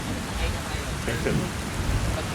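Steady rain hiss from a typhoon outdoors in the UAE fills the short stretch, a soft wash of noise with faint patter and no clear voices.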